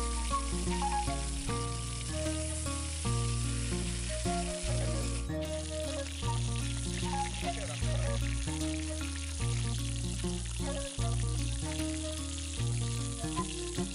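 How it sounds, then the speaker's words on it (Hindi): Fish fries in hot oil with a loud, continuous crackling sizzle that holds steady throughout, with faint voices at times beneath it. "अब इसमें फिश डालकर फ्राई करेंगे फ्रेंड्स।"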